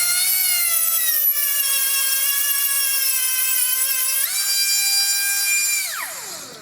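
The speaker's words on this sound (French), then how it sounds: "Donc du coup là je meule à l'envers." A grinder spins against a turbo compressor wheel during balancing work, a loud, close, high-pitched whine held steady, stepping up in pitch near the end, then winding down as the tool stops.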